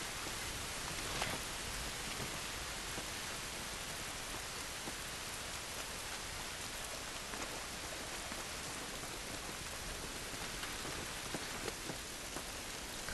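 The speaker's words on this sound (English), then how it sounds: "This rain ain't gonna do us any good." Steady rain in the video game The Last of Us Part II patters down continuously on surfaces, an even hiss of drops with no break, moderately loud and enveloping.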